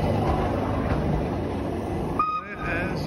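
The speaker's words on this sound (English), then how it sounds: "on the train, just arriving at Condorcet" A train pulls into a station near Villars, its steady low rumble filling the space before a brief squeal and a short tonal toot near the end, with a voice speaking over it.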